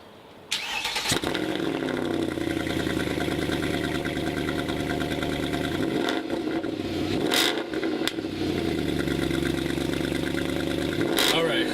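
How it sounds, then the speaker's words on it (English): A car engine cold-starts and settles into a steady idle, with a loud continuous rumble and a couple of brief revs midway, heard up close in an outdoor setting. "so I always love the cold starts, so let's do a cold start"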